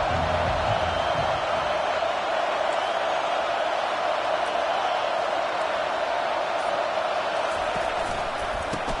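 Stadium crowd in a Madden NFL football video game, a steady loud roar of many voices near the goal line, continuous with no clear individual cheers or speech.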